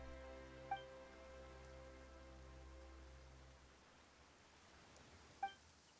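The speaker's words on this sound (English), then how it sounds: "Why is it raining all of a sudden?" Rain suddenly falling in the video game Genshin Impact, a soft, steady patter of drops on surfaces. It plays under a low hum that cuts out partway through, with two faint chime-like blips.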